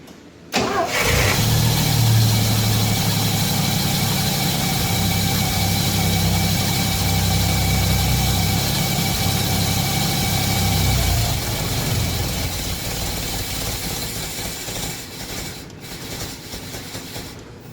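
A car with a fuel pump problem cranks and catches, then idles loudly and unevenly for about ten seconds before the engine note sags and fades toward stalling.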